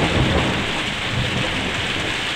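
Heavy rain pours steadily on a rainy day in the UK, a dense, loud, continuous hiss and patter with low rumbling beneath, no voices.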